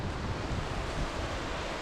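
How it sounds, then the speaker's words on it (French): Waterfall seen on a long mountain hike facing Mont Blanc, a steady broadband roar of rushing water with some wind buffeting the microphone, loud and continuous with no voices. "il y a une putain de cascade incroyable"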